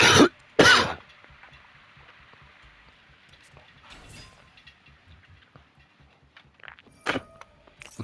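A man, still getting over an illness, coughs twice hard and close at the start, then clears his throat briefly later, with quiet room noise and a few soft thumps in between.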